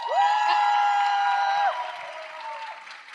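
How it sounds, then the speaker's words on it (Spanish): An audience at a poetry talk on song lyrics applauds and cheers for Dani, with a long, loud whoop riding over the clapping before the noise fades down. "Un aplauso para Dani."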